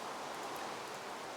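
Rain in the video game Terra Firma Punk, a steady broadband hiss of falling rain, continuous and even throughout with no voices.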